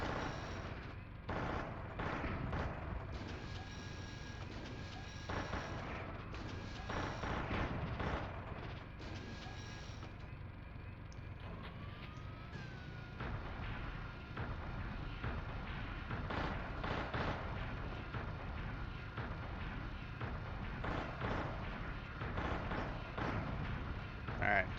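Machine gun fire in the mech combat game Steel Battalion, repeated rapid bursts of shots over a steady engine rumble, with people talking throughout.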